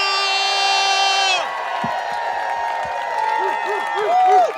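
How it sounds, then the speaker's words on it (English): A crowd at a political Senate campaign rally in The Villages cheers, whoops and applauds loudly after a sustained electronic tone cuts off. Voices and shouts mix through the noise, with more shouting near the end. "let me hear you give a loud round of applause for our next United States Senator, Debbie M"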